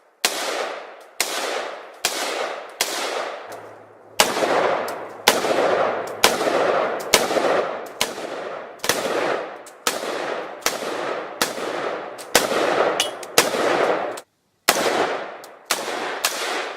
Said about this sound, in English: we need to go put some rounds through this thing at the range